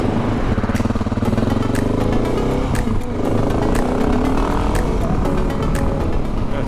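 A KTM 701 motorcycle fitted with a Rekluse clutch runs loud and close while being ridden, its engine a steady throbbing drone that shifts pitch as speed changes, with a voice talking faintly over it.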